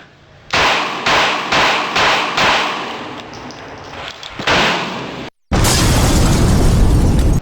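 A Walther P5 pistol fires several loud, close shots in quick succession with sharp reports and short decays, followed by a heavier, sustained burst of noise after a brief gap.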